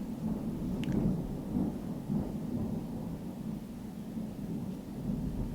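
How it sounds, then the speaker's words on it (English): Deep, sustained rumble of thunder from a storm outside, a low rolling roar that fills the whole stretch at moderate level with no talking over it. "Oh my gosh, I hope you guys could hear that. That was the loudest thunder."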